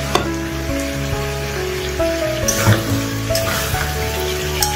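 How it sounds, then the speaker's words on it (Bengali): Ginger, cumin and garlic paste fries in a pan for an echor chicken dish, giving a soft, steady sizzle with faint stirring and a few clinks up close, and no voice. "ভালো করে কষিয়ে নেব।"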